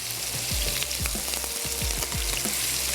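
Chicken pieces frying to crisp their outer layer, producing a continuous close sizzle with crackling bursts and repeated clanking stirs or thuds from a utensil against the pan, with no voices.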